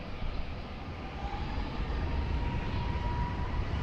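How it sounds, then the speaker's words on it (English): Airbus A321 jet departing Lisbon Airport, a steady broadband engine roar that holds and builds slightly, with a faint tonal whine running through it, heard from a distance alone without talk. "Airbus 321 departure."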